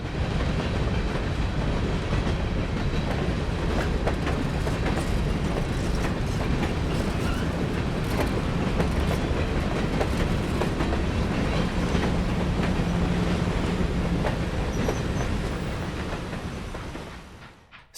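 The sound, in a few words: CSX freight train, empty grain train, rumbling by on main line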